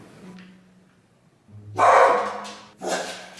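Dogs bark indoors in two loud, close bursts after a quiet stretch of faint whimpering. No one speaks.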